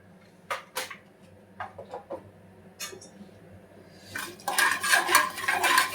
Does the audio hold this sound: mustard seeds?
yes